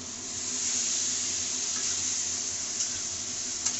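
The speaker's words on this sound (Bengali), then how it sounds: "তো বন্ধুরা আমি একটু তরকারির মধ্যে জল ঢেলে দিলাম" Water poured into a curry simmering in a pan gives a steady, broad hiss and sizzle that holds evenly throughout, close by and fairly loud, with a couple of faint clinks near the end.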